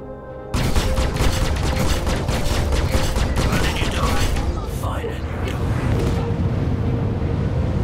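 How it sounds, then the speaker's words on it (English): A missile strikes a spaceship during a dogfight with an Aegis Sabre in Star Citizen, bursting into a loud, sustained crackling roar of impacts and weapon fire that holds steady for several seconds. "I think that missile actually hit me"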